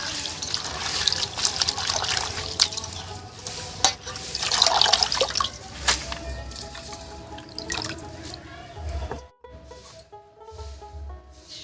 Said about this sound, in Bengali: শাকটা কেটে নিলাম, একবারে ধুয়ে নিচ্ছি।